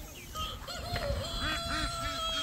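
A young rooster makes a quick run of soft, warbling clucks nearby, the calls rising and falling over a faint background.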